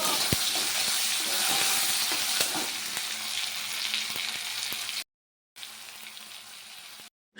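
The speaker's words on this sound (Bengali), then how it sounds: "সর্ষের তেলে নুন হলুদ দিয়ে টমেটোগুলো ভেজে অল্প একটু জিরে গুঁড়ো দিলাম" Tomatoes fry in mustard oil with salt and turmeric, giving a loud, steady broadband sizzle with faint stirring ticks throughout, then a brief silence before the sizzling returns near the end.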